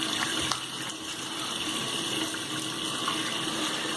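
Cold tap water running steadily into a sink for a quick rinse after a shave with a Merkur 37c safety razor, a close, continuous hiss with a few faint splashes.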